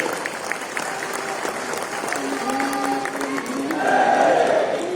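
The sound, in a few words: audience clapping to honour Lord Ram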